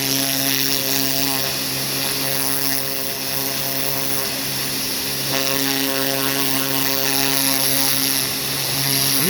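A pressure washer sprays a turkey carcass, a loud steady engine-driven whine with a constant hissing jet up close, with no voices.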